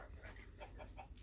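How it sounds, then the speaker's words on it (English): Minecraft chickens give soft, faint clucks, several short repeated calls in a quick uneven rhythm over a low background hum. "Alright, we got chickens."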